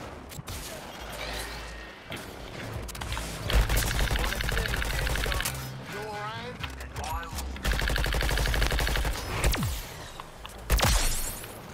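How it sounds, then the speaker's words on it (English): Covering gunfire in Suicide Squad: Kill the Justice League, repeated rapid bursts of automatic shots in several stretches mixed with game effects and whooshes, with voices speaking between and over the firing. "Covering fire."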